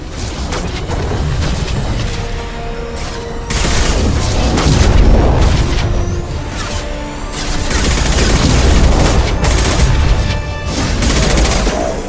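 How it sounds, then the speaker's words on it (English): Gunfire and heavy high-impact shots from the Mass Effect 2 video game roll on steadily with deep booming blasts and surging loudness, repeated bursts across the whole stretch, no voices. "Firing a high impact shot"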